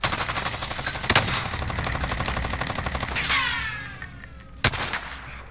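Rapid automatic gunfire in Call of Duty Warzone, a steady rattling burst of evenly spaced shots with two louder sharp cracks, then a fading echo.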